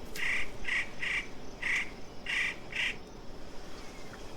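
Six loud, short nasal calls from birds living in single-sex groups, spaced roughly half a second apart over a steady outdoor hiss, then quiet background.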